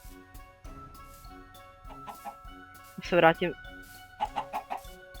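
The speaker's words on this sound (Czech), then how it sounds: "Slepice." Chicken clucks in the Minecraft video game, a few short clucks amid game sounds and quiet Czech talk, with a louder burst of clucking near the middle.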